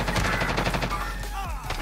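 Rapid burst of gunfire in the video game Warzone, a magnum firing amid a quick run of sharp, loud reports that tails off into quieter game sounds.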